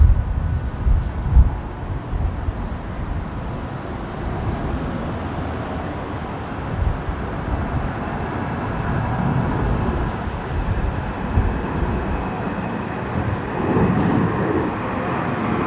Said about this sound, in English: Here's the Alliance Embraer heading off now.